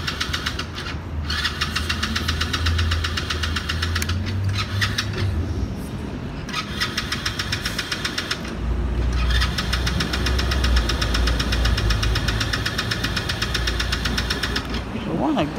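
An ATV engine cranks and struggles to start, a loud rough churning that cuts out and restarts in several attempts, with a voice talking over parts of it.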